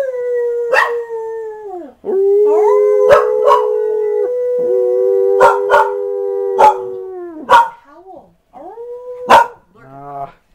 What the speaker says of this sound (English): She howled and I almost caught it on tape.